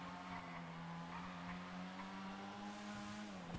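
A car in a GTA roleplay video game easing off its speed, a steady engine drone that holds at one pitch and then drops slightly near the end, continuous and moderately loud.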